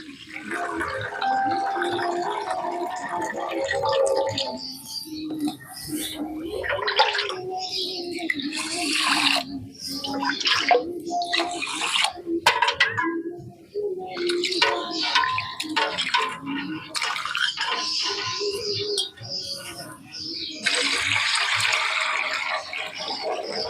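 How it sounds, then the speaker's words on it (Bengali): Rice is rinsed by hand in a bowl of water, with sloshing, swirling and splashes that come in uneven bursts, close and moderately loud, and water is poured off partway through. "এবার জলটা ফেলে দেই, আবারও জল দিয়ে ধুয়ে নেব।"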